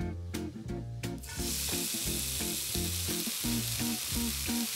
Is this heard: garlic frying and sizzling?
yes